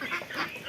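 Ducks feeding from bowls, giving short nasal quacks and calls close by in a brief burst.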